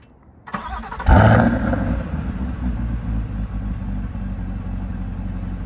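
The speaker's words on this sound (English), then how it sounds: "I'll do a remote start and then I'll get out of here." A car engine cranks and catches after a remote start, with a sharp burst at about one second, then settles into a steady, fairly loud idle that runs to the end with no talking.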